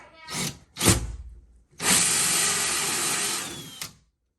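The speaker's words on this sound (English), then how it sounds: "getting ready to drill a pilot hole" A power drill gives two quick bursts, then whirs steadily for about two seconds close by while drilling a pilot hole during cabinet installation, before stopping.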